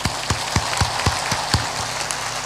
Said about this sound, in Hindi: ऊपर ऊपर ताली बजा दो।